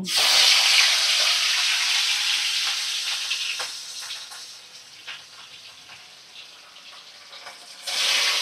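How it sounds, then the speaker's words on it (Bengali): Steady hissing sizzle of four pieces of katla fish frying in hot oil in a wok, loud at first then settling to a softer crackle with small pops, no voices. "এখন মাছের পিসগুলো আমি তেলের মধ্যে ছেড়ে দিচ্ছি"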